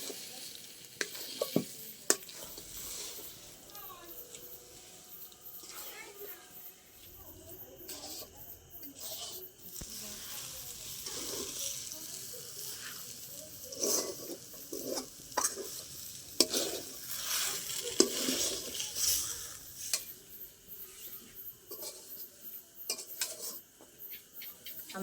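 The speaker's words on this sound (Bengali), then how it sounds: "মিশ্রণটা এরকমভাবে অনবরত নাড়তে হবে, নাহলে কিন্তু তলায় লেগে যাবে" A dough mixture stirred without pause in a wok, with quiet scraping and occasional clinks of the spoon against the metal, close but faint, with no voices.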